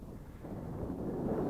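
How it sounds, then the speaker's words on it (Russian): Low rumbling wind buffeting the microphone on the Moksha River, steady and gusting slightly stronger toward the end, with no voices. "Ветер в лицо."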